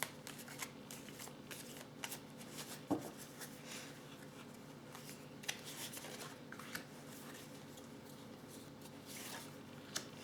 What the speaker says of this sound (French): Alors, je vais prendre encore 4 cartes.